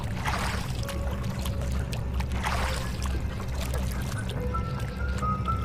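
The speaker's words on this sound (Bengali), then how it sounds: "আমি নৌকা নিয়ে ভেসে চললাম নদীর ওই প্রান্তে" A boat glides through river water as a sound effect in a horror story, soft close water sloshing and paddle-like splashes swelling and fading under a steady low background.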